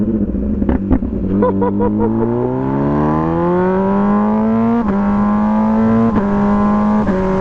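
A Brutale 1000RR motorcycle with a full titanium Arrow exhaust rumbles at a steady idle, rising smoothly in pitch, with a few sharp pops and crackles breaking through the drone.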